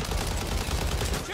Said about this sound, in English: See if we can bullet penetration kills.